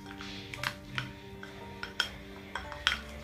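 Hair dye developer and cream are mixed in a bowl, giving a series of sharp clinks of a utensil against the bowl, about six scattered taps over a quiet background hum, close and moderately loud, with no talking.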